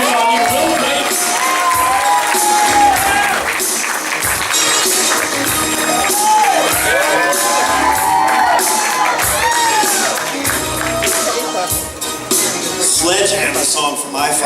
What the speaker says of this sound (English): Give a big round of applause for Will Gates.